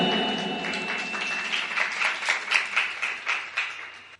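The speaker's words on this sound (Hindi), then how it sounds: "तो हमारे मां साहब के स्वागत में एक बार से तालियां" Audience applause at a Dhanteras and Diwali gift and award ceremony, steady clapping that swells into sharper rhythmic claps partway through and stops abruptly at the end.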